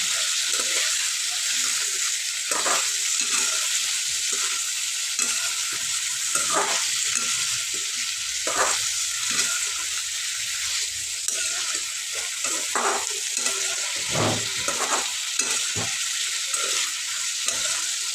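Green tomato chutney with green chillies roasts in a pan over a low flame, giving a steady close sizzle with repeated scraping stir strokes throughout and no talk.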